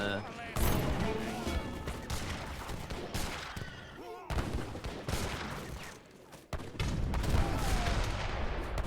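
Bombard cannons firing in Age of Empires 3 during a busy battle, heavy booming blasts recurring through dense combat noise, with sharp bursts near one, four and six and a half seconds and talk running underneath.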